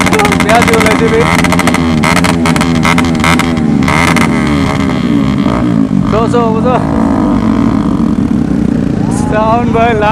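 Motorcycle engines rumble loudly and continuously on a group ride toward Meghalaya, with a rough low drone and people talking over it throughout.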